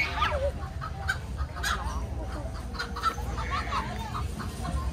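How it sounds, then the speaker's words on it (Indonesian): Large turkey in a pen at a rural tourist park gobbles and honks in repeated calls, with other farm fowl clucking nearby, loud and close against steady outdoor background noise. "Tuh, ayam kalkun yang gede tuh."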